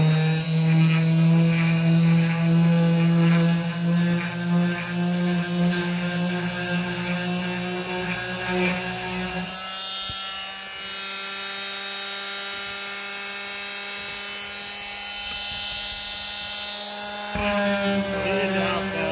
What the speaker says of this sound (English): we take them over to our little jig and get our multi-tool and Give them a little sand.